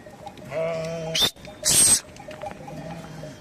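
Sheep bleat twice in snowy weather, a drawn-out wavering call followed by a short, bright cry, close by, with faint outdoor rustling in between.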